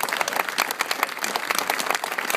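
Audience applause at a window dedication ceremony at Disneyland, dense steady clapping from a large crowd, loud and continuous throughout with no pauses.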